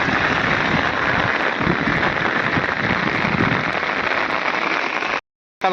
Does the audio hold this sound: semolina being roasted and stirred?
no